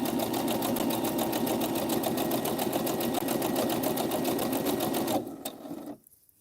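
A sewing machine stitches steadily and loudly on its own for about five seconds, a fast even needle rhythm, then slows and stops, leaving near silence at the end.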